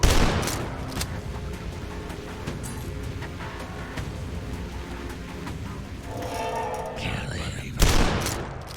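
In the shooter game DUSK, the super shotgun fires in dense, rapid, loud blasts, layered with constant game noise and a heavy boom near the end.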